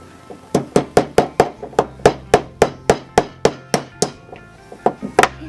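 Sharp, evenly spaced hammer blows on a nail, about sixteen strikes in quick rhythm, close and loud, with a brief pause before the final few hits.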